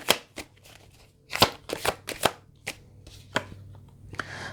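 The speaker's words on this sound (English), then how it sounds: "we're going to pull some cards on these and see what it refers to" Tarot cards are shuffled close by in uneven bursts of crisp riffling and slapping, loud and clear with quiet pauses between, and no talking.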